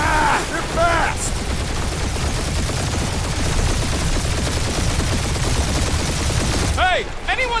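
Sustained gunfire pours from weapons in the Marvel's Guardians of the Galaxy game, a loud, continuous volley of rapid shots. Brief sci-fi whooshes and voices break in at the start and end.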